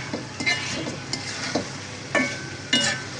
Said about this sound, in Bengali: এইখানে শুটকি ভুনা করছি।